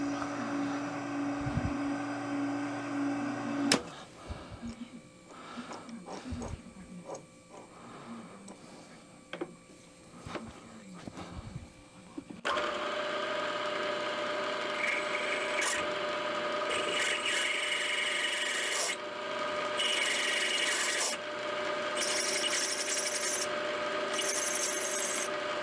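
Drilling a hole with a 21/64 tap drill sized for a 3/8-24 thread, while making a Hemingway knurling tool: a steady grinding, rasping cut that grows louder and denser after about twelve seconds and continues without talk.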